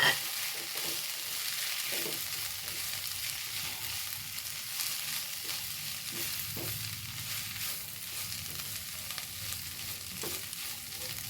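Chicken pieces for a Kerala drumstick-leaf stir-fry are stirred in a frying pan, a constant hissing sizzle with occasional soft scrapes and clicks, fairly quiet and without voices.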